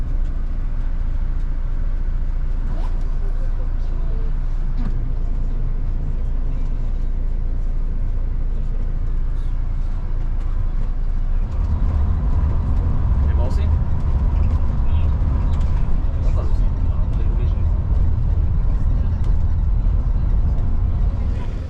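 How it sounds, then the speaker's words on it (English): Interior of a bus driving on Hvar island in Croatia: a steady low engine rumble and road noise that grows heavier partway through, with people talking over it. "We're in the bus already."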